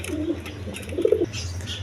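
Black Gorra pigeons give a short run of soft, low coos in a pigeon loft, set against a faint, steady background hum.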